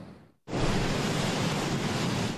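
Storm surf pounds the Cape Cod shore near Sandwich's Town Neck Beach at high tide. After a brief lull, a loud, continuous roar of crashing waves begins, mixed with wind noise, and no one talks.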